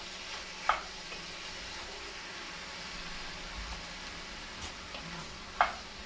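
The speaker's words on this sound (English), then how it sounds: "And you stir it." Pork dish with large beefsteak tomatoes sizzling softly in a pan, a faint steady fry hiss with two sharp clinks of a utensil against the pan as it is stirred.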